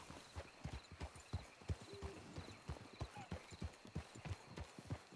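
Horse hooves in a video game clip-clop in a steady, even trot, each footfall crisp and close, continuing throughout at a modest level with no talking.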